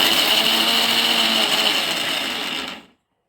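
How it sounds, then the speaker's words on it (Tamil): An electric mixer grinder whirs steadily as it grinds soaked lentils for dumplings, a loud continuous motor whine that runs alone for nearly three seconds before cutting off abruptly. "ஸோ இன்னொரு தடவை கிரைண்ட் பண்ணிவிட்டு கொஞ்சம் எடுத்துக்கிறேன்."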